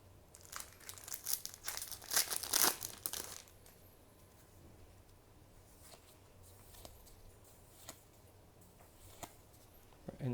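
Cardfight Vanguard booster pack wrappers crinkle and tear in quick bursts close by, loudest early on, then sparse faint rustles and clicks follow.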